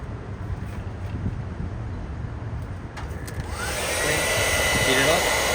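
A heat gun shrinks heat-shrink tubing over wiring while a halo headlight is fitted to a 1969 Camaro convertible. Its steady, close airy roar grows louder and fuller toward the end.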